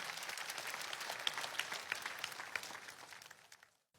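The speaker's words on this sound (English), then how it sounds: "Shall we clap for wonderful Jesus Christ?" An audience claps steadily in praise of Jesus Christ, a dense wash of hand claps with a few sharper individual claps standing out, fading in the last moments before cutting off to near silence.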